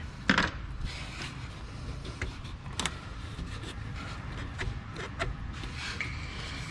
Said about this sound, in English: go ahead and just pull this tab out like that with your little friendly pick